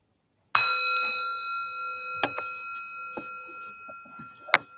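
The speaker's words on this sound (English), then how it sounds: "So this time I'm going to get the bell right." A meditation bell is struck once to open a loving-kindness meditation, giving a clear, close, bright ring that fades slowly. A few soft knocks and handling sounds follow, with no talking.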